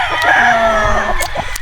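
Chickens on a farm cluck and call loudly and close by, with overlapping squawks and short crowing-like cries in a brief busy burst.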